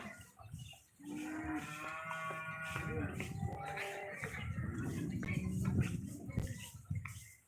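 Several cows moo loudly one after another at a cattle market in Loni, long drawn-out calls overlapping amid a noisy crowd.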